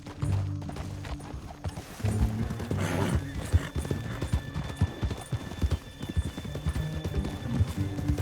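Horse hooves clip-clop steadily and a horse whinnies in Red Dead Redemption 2, the hoofbeats rhythmic and close under a rumbling ride through a canyon, with no voices.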